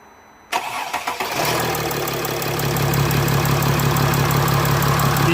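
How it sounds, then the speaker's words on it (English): A Mercedes ML320 CDI diesel, after repair of turbo actuator faults, cranks and fires into life, then settles into a steady, loud close-up idle with a clattery diesel rumble. "So let's start the engine."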